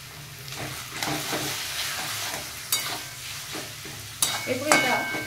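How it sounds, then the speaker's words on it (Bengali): Chicken pieces coated in salt and turmeric hit a hot pan and fry with a steady sizzle, broken by the scrape and clatter of stirring and a few sharper knocks near the end, close and moderately loud. "তাই এর মধ্যে আমি দিয়ে দেবো আমার নুন আর হলুদ দিয়ে মাখিয়ে রাখা চিকেনের টুকরোগুলো।"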